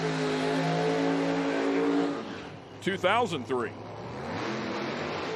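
Nitro drag racing car at an IHRA Outlaw Nitro Series event revving hard during its burnout, a loud sustained engine roar under commentary, with a brief shouted voice in the middle.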